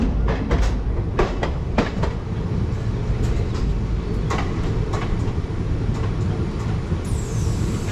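An Indian Railways Kacheguda–Medak passenger train rolls into Safilguda station with a loud, continuous rumble, sharp clanks and clicks of the wheels over the rails, and a rising hiss near the end.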